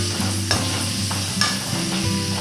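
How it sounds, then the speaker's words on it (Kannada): One large, finely chopped onion fries in a pan for a kids' pasta dish, giving a steady, close sizzle broken by a few stirring scrapes. "ಈಗ ನೀರುಳ್ಳಿ ನೋಡಿ ಸ್ವಲ್ಪ ಫ್ರೈ ಆಗಿದೆ."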